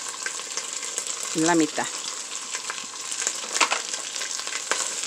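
Half a finely chopped onion sizzles in a pan for a pot of charro beans, a steady close hiss with a brief spoken phrase and a short burst of louder sizzle early on.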